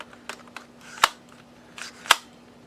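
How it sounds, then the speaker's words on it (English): Elite Force IWI Mini Uzi airsoft gun gives two sharp metallic clicks about a second apart as its side magazine release is worked, with faint handling rattles in between. "Mag release right here on the side"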